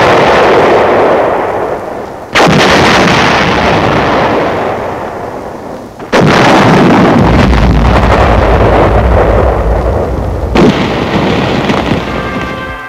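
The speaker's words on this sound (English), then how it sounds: "Finally, all that was real was blood and gunfire." In wartime Paris, booming gunfire and artillery roll on loudly with sharp blasts at intervals. Wind-like rumble and roar run under the blasts throughout, with no voices.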